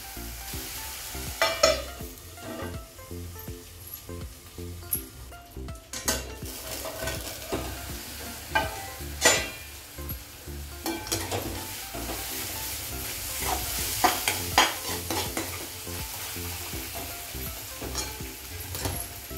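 Vegetables sautéing in a pan, with a steady sizzle and hiss of frying under repeated scraping and stirring clinks of a spoon against the pan, close and continuous.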